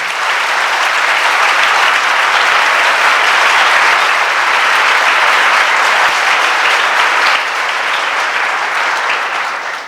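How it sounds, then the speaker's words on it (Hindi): Loud, sustained applause from a large audience celebrating high-scoring students' CUET PG MCA 2024 results, a dense, even roar of clapping lasting throughout with no speech. "उनके लिए और जोरदार तालियां बजा दें"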